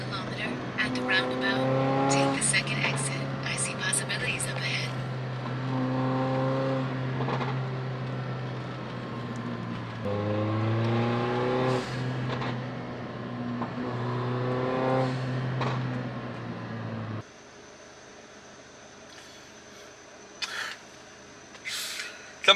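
Turbocharged Mercedes CLA45 engine idling and revving in short blips, each throttle release followed by a quick hiss from an aftermarket blow-off valve; several rev bursts close by, with someone talking over the engine.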